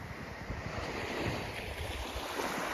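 Steady surf from the Baltic Sea washes onto an empty beach as waves begin to build after a calm morning, a continuous wash mixed with gusty wind buffeting the microphone.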